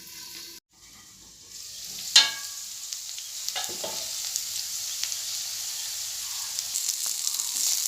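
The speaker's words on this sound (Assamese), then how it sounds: "সজিনাখিনি ভালদৰে লৰাই মধ্যমীয়া জুইত অলপ সময় ঢাকি ৰাখি সিজিবলৈ দিয়ক।" Drumsticks (moringa pods) cook in a pan over medium heat with a continuous close sizzle and occasional stirring scrapes, with no voices.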